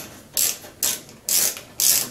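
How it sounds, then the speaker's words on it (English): Ratcheting screwdriver fitted with a Torx bit backing a screw out of a Whirlpool Sport Duet washer's front panel: four evenly spaced bursts of crisp ratchet clicking, close and loud, with quiet pauses between. "So now we can take our ratcheting screwdriver with the Torx bit."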